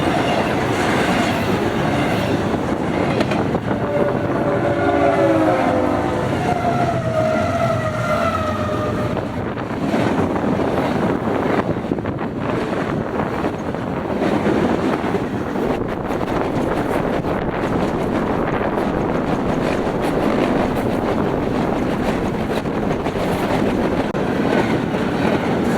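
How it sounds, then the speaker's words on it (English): Westbound BNSF Q intermodal train led by locomotive BNSF 6054 rolling past steadily with rumbling wheels and clickety-clack over rail joints, a weak horn sounding early, wind buffeting the microphone throughout. "this being a westbound BNSF Q train with BNSF 6054 leading"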